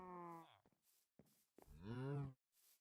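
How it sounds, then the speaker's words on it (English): A Minecraft cow stuck on top of a house moos twice, a long low call and then a second rising one, loud and near, with short faint sounds between. "There's a cow on top of this house."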